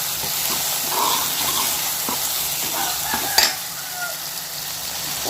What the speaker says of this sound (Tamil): தக்காளி நல்லா மையாக நசிஞ்சு வதங்கணும்